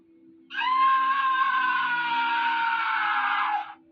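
A single loud, sustained human scream rings out for about three seconds over a low background hum, then breaks off sharply.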